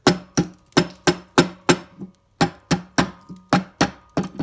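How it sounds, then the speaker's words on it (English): Sharp hammer taps on a resin burr blank to release air bubbles before turning, about a dozen strikes in a steady rhythm with a brief pause midway, close and fairly loud. "I'm going to start by using a hammer and just take some of these air bubbles out"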